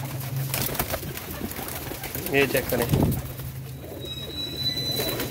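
Pigeons, adult breeding birds kept by a pigeon keeper, cooing softly amid a dense, noisy background, with someone speaking over them.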